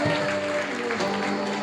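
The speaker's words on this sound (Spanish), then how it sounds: "Aplauda al Señor." Spanish-speaking church congregation clapping in praise to the Lord, a steady burst of applause mixed with sustained musical tones from the service, fairly close and full throughout.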